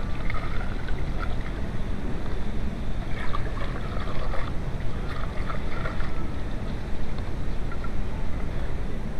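Water running and splashing steadily as residual coolant is rinsed off a Volkswagen 1.8T engine in an Audi A4, a continuous wash with scattered spatter and no speech.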